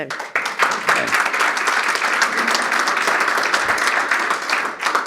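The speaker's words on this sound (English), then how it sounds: "starting the clapping in the back" A town hall audience claps steadily, a dense, even roar of many hands sustained for several seconds at close range with no talking over it.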